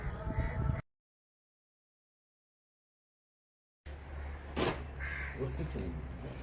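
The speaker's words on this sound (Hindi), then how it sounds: "ये देखो कितने से काले, बिल्कुल स्याह काले कौए हैं ये।" Jet-black crows cawing outdoors, one sharp loud caw rising over background voices and ambient noise after a stretch of silence.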